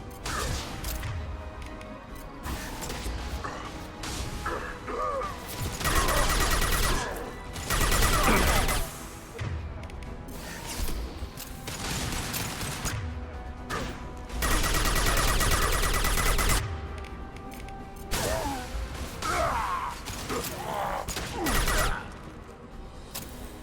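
Assault rifle gunfire with incendiary rounds in Mass Effect 2, arriving in several loud sustained bursts with crashing impacts over ongoing game noise and music, separated by quieter stretches.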